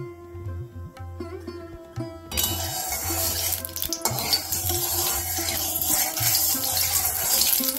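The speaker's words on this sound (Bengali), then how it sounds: "কড়াই গরম হয়ে গেছে, এবার আমি কড়াইয়ে তেল দেব।" Oil hits a hot wok (kadai) and bursts into a loud, steady sizzle after a quieter opening with faint tonal hum, the frying hiss then carrying on evenly to the end.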